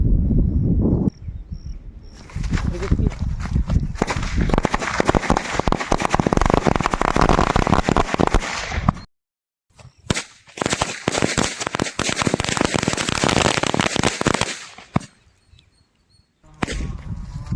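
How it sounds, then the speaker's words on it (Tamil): Rapid, dense crackling of a large firecracker string, popping nonstop in two long bursts separated by a short pause, loud and close. "அடுத்து பார்த்தீங்கன்னா சரத்தை வெடிக்க போகிறோம் வாங்க."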